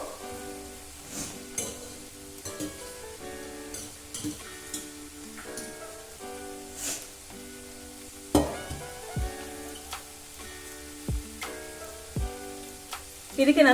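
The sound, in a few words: cooked pasta added and stirred into sizzling tempering in pan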